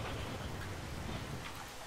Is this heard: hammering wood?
no